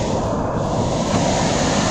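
Loud, constant roar of rushing water, dense and unbroken, heard from the top of Dhangar Waterfall near Badlapur, with some wind buffeting the microphone.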